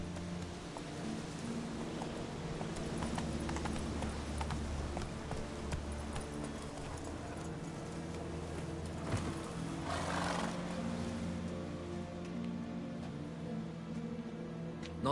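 Roach the horse from the Witcher 3 video game, with a continuous low rumble of hooves and movement under a wash of rain-like ambient noise and a brief louder burst midway.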